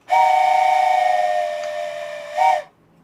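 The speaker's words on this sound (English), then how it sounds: "We have a train whistle." A steam-style train whistle from the railway game OpenTTD sounds one long, loud, steady blast, then a short second toot right after, with nothing else around it.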